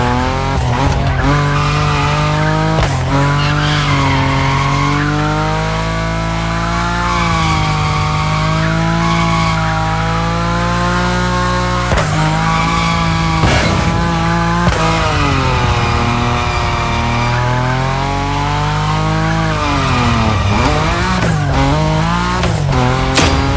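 A Nissan Nismo drifts in The Crew Motorfest racing game, a loud continuous engine drone with rising and falling revs mixed with sustained tire squeal, running throughout without pause.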